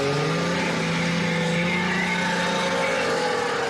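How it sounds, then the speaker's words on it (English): An old Evinrude snowmobile with Evinrude's own rotary engine runs steadily and loudly, a continuous droning engine note with slight pitch drift and no talk over it. "Big old rotary in these things. Rotary engine."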